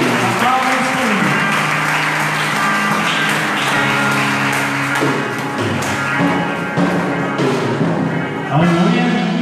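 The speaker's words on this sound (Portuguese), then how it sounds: "Aplausos ao Senhor." A church congregation applauds after a sermon, steady close clapping that fills the room continuously with voices mixed in over it.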